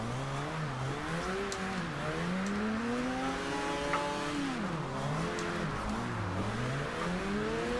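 A Mazda RX7 drifting in the racing game Forza Horizon 2 on a rainy track, its engine note continuously climbing and falling in long revving sweeps, loud and steady with no talking.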